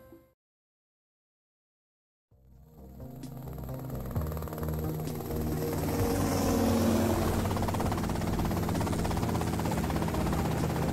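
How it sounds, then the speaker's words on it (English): Helicopter in GTA Vice City starting up after a moment of silence, its rotor and engine noise building into a loud, steady, close drone that holds to the end; no one speaks. "Okay, that's them in the chopper."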